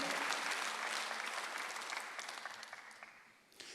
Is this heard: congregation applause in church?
yes